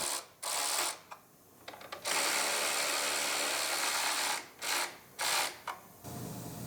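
A ratchet drives down the bolt of a car battery hold-down on a 2018 Ford Explorer Limited AWD under collision repair, in several bursts of rapid clicking broken by short pauses, close and fairly loud.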